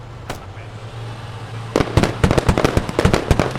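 Rapid bursts of gunfire in the military shooter game Squad, sharp cracks firing in quick irregular volleys after a lone early shot, loud and close over a low engine hum.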